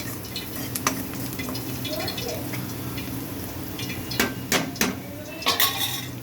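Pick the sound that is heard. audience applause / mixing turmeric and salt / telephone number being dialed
mixing turmeric and salt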